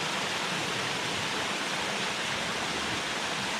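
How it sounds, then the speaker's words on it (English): Hiker's Peril waterfall, about 75 to 100 feet high, pouring beside a creek on a mountain trail: a steady, close, loud broadband rush of falling water that stays unbroken throughout. "This is the Hiker's Peril waterfall."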